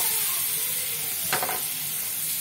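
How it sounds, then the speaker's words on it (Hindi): Flour lightly roasting in melted butter in a pan, a soft, steady sizzle and hiss with a brief scrape of stirring near the middle, quiet and close. "मैदा डालूंगी 4 टेबल स्पून, हल्का सा भूनेंगे"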